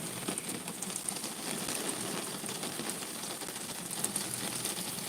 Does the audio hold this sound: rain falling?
yes